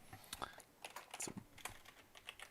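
Keys clatter on a computer keyboard in quick irregular bursts, close and soft, with no talk over them.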